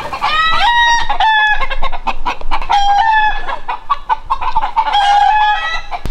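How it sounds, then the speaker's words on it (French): Roosters crow loudly and repeatedly, their calls overlapping one after another, close by and with no talking. "C'est les coqs."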